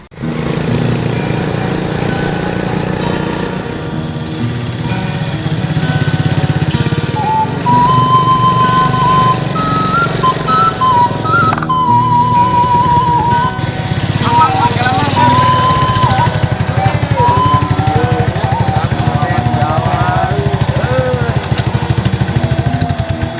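An old, antique motorcycle with spoked wheels runs nearby with a continuous rough engine rumble, while people talk over it throughout.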